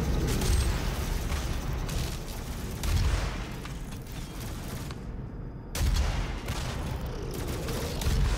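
Rocket launcher explosions in DOOM 2016, heavy booms that recur every few seconds over a continuous dense roar of combat noise, with a brief near-silent gap before another blast, with no talk.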